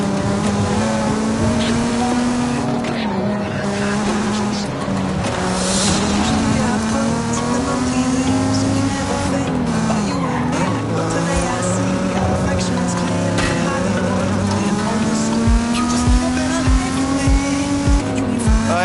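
A Mazda Miata drives through dark woods at the base of a mountain in Forza Horizon 5, its engine droning loud and steady with pitch rising and falling through gear changes, tires squealing at moments, a voice talking over it.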